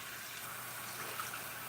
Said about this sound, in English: adding some warm water to it